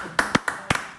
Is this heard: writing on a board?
no